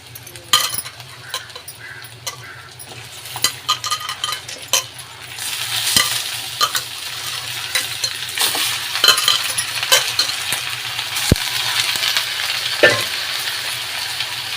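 Half a kilo of cleaned chicken pieces goes into a pan for a salty South Indian chicken dish, starting with clinks and knocks of a utensil and swelling into a loud, steady sizzle with intermittent stirring clatter.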